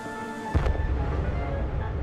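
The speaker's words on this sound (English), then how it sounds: "The bang echoed round the gorge." An emergency cap on a narrow-gauge railway track goes off with one sharp bang as a train runs over it, followed by a rumbling wash of low noise that rolls on around a gorge.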